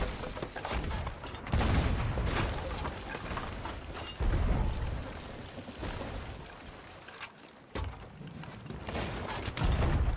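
Loud, booming ship cannon blasts in a ship battle in a video game, several heavy shots in succession over a constant roar of water and wind.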